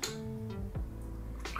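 Distilled water is poured into a homemade natural rose skin-cream mixture, making a continuous close trickling, splashing pour with a brief gurgle near the end and no speech.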